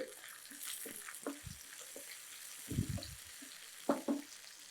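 Chopped onion and capsicum frying in a pan for a chicken egg fry, a faint steady sizzle broken by a few soft stirring scrapes and clinks.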